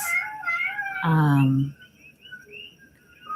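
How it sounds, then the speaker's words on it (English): A house cat gives one clear, drawn-out meow in the middle, close to the microphone, with quieter background sounds around it. "there's a cat"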